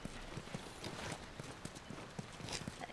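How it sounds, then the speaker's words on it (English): Horses in the video game The Last of Us Part 1, with hooves clip-clopping steadily at a walking pace over a busy outdoor ambience. "You guys have horses."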